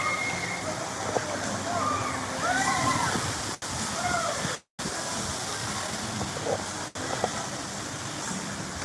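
Water splashing at a water park's big kids area with a dumping water bucket, a broad, steady rush and hiss of falling water close by, with distant voices and crowd noise mixed in.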